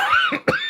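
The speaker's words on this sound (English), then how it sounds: "I had a coughing attack." A short burst of coughing from a man, two quick harsh coughs close to the microphone, sounding alone with no talk around them.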